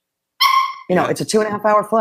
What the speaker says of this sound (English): So that's my dog wanting to talk.